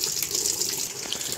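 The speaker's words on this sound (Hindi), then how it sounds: "ये पानी भर रहा है और पानी भर जाएगा" Water pours steadily into a washing machine drum before laundry detergent and clothes go in, a close, even hiss and splash with no talk over it.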